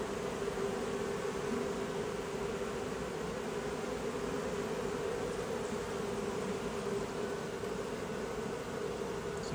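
A honeybee swarm fanning at the entrance of a hive, a dense, steady buzzing drone that holds evenly throughout with no breaks and no talking.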